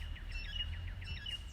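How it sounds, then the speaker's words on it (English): Birds chirp outdoors on an unusually cool morning in Gainesville, Florida, with quick repeated tweets at a moderate distance over a low, steady background rumble. "The birds are chirping,"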